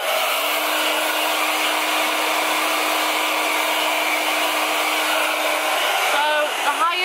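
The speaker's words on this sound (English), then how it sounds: "So let's dry my hair and listen to the sound." A Parlux Alyon hair dryer runs on its highest setting with a steady, loud, continuous whine and airflow rush, held evenly throughout, with a brief rustle of moving air near the end.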